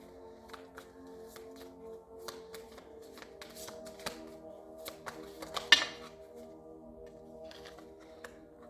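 Tarot cards are shuffled by hand in soft, quick riffling bursts with light taps and slides, close and fairly quiet, with no talking.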